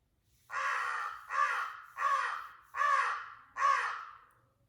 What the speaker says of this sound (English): it's the American crow.